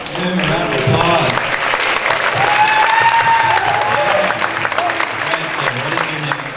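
An audience at a fundraiser event claps loudly and steadily for several seconds, a dense room-filling applause with scattered whoops and murmuring voices mixed in.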